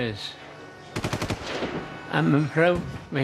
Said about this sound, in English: All of a sudden I heard shooting from the Delhaize supermarket.